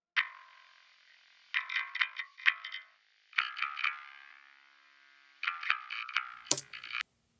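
Bass guitar notes pass through a FabFilter Pro-DS de-esser that is toggled on and off, heard as thin, bright plucked phrases separated by short silences, faint and without voices.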